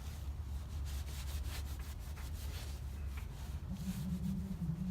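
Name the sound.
wiping oil off with a rag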